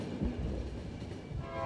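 Train rolling along rails in the video game The Final Station, a steady low rumble with faint rhythmic clatter, running continuously at moderate level with no voices.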